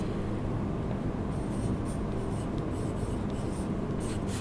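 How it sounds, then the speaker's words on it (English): A pen writes across a paper page, making faint, intermittent scratchy strokes in short bursts over a steady background hum, close up with no speech. "So I'm just going to write it across this page."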